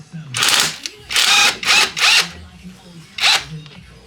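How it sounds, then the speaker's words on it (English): An electric ratchet undoes an alternator pulley bolt on a 2008 Land Rover Freelander 2, with five close whirring bursts of under a second each separated by pauses, and faint talk between them. "We're using a ratchet tool run by electric"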